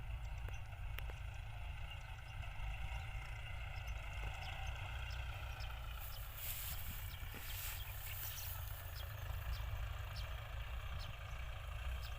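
A tractor engine chugs continuously at a moderate distance, a steady low drone with faint scattered clicks and ticks above it.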